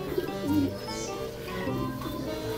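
Low, soft cooing from a pigeon nearby, mixed with quiet background chatter and faint murmuring voices.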